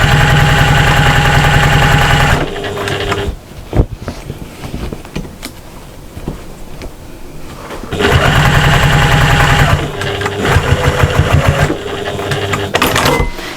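A sewing machine runs basting stitches on a cross body bag in loud, steady whirring bursts, pausing in the middle for quieter handling and clicks before starting up again, close by.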